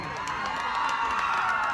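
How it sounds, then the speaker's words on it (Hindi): Village crowd at an outdoor DJ dance event cheers and whoops with some clapping, excited shouts including children's voices, a short lively burst at steady loudness. "बिल्कुल जोरदार ताली के साथ स्वागत कर होमी स्टाइलो"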